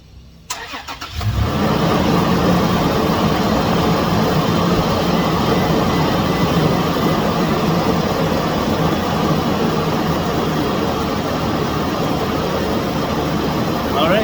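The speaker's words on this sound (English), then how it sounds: "If you want me to start the car," A Toyota 4Runner engine cranks and catches after a short silence, then settles into a loud, steady idle that runs unbroken for over ten seconds, close to the listener after an air filter change.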